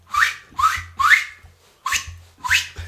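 A person trying to whistle, producing five short breathy rising whistles in an uneven rhythm, loud and close, with brief pauses between attempts.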